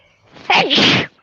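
A single close, sharp sneeze with a brief inhaled buildup and a loud burst, alone and clear.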